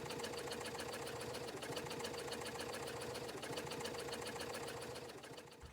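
A sewing machine stitches steadily along a vinyl crossbody strap, a close, fast, even mechanical whir running unbroken for several seconds before easing slightly at the end.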